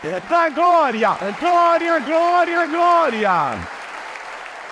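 Church congregation applauding during a worship service, a broad wash of clapping running beneath a loud, melodic preacher's voice that dominates almost throughout before dropping away near the end.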